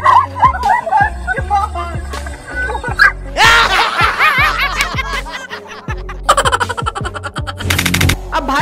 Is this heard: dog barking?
yes